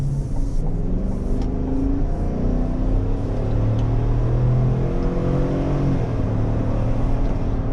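A 2024 Chevrolet Suburban Z71 with a V8 engine pulls away from a stop sign, its engine note rising and climbing through gears in a loud, continuous interior drone with no talking.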